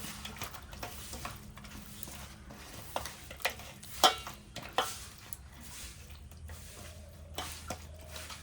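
Koi fish being mixed by hand with cumin paste, chili paste and mustard oil in a bowl, with soft squishes and scattered light clicks of fingers against the dish, fairly quiet.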